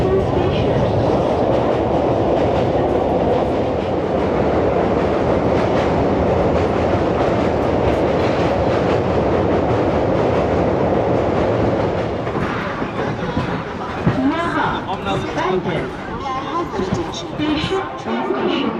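A train at Bandel railway station, a loud continuous rumble with clattering wheels on the rails, followed near the end by a voice speaking over quieter station noise.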